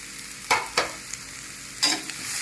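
Garlic and curry leaves sizzle in hot oil, a soft steady hiss broken by three sharp crackling bursts as the leaves hit the pan, close by with no talking.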